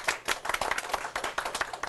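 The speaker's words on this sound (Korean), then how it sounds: "오늘 수고하신 두 분의 MC분들 박수 부탁드리겠습니다" A small audience at a Korean CEO talk event claps for two MCs, a short burst of distinct, close hand claps with quick uneven rhythm and no talking.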